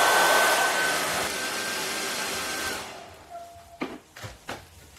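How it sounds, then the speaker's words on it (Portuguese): A weak hair dryer blows steadily with a broad airy whoosh for almost three seconds, then shuts off, leaving a quiet room with a few soft knocks and handling sounds. "esse secador aqui, ele é muito fraquinho, muito, muito, muito"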